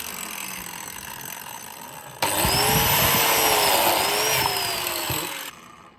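A biscuit joiner plunges into wood while a pantry is built during a Mediterranean villa renovation. After a quiet stretch, a loud, close motor whine starts abruptly, holds steady for about three seconds, then cuts off.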